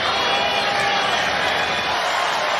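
A jam-packed arena crowd at Gainbridge Fieldhouse during SmackDown wrestling roars steadily, a dense and constant wash of cheering noise throughout.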